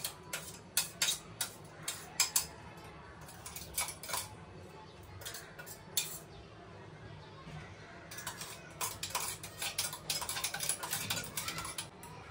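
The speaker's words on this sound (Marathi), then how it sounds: "मी जो मिरची आहे ते पूर्ण ह्याच्यामध्ये मिक्स करून घेते" A spoon mixing chili into a mashed potato nugget mixture in a home kitchen, heard as rapid irregular clinks and taps of metal against a bowl, close and fairly crisp, with quieter stretches in between and no talk.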